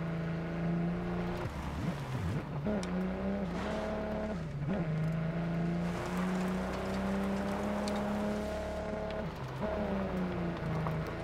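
A truck drives in the video game Ghost Recon Breakpoint. Its engine drones loud and steady, dipping and rising in pitch as it shifts and revs, with no talk over it.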